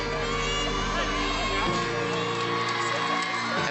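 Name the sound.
crowd cheering at a women's gymnastics meet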